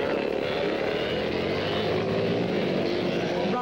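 Engines of motorcycles and ATVs racing on an ice track at noon, a steady dense engine drone filling the whole stretch without letup, with no clear single pass standing out.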